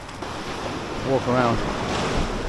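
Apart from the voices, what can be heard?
rough sea waves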